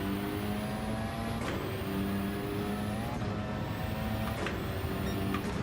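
Rally car engine in Gran Turismo climbing a hill at Eiger Nordwand, a steady droning roar with rising harmonic tones as it revs up through the gears, loud and continuous with no talk.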